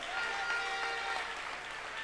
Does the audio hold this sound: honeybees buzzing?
no